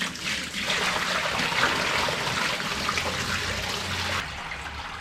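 Water drains steadily from a shower tray in a camper van, a continuous trickling, gurgling wash close to the microphone that thins out near the end, with no talking.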